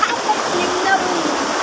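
Steady broadband rush of water flowing at a cold spring in Calabato, La Paz, Leyte, continuous and close, with no voices.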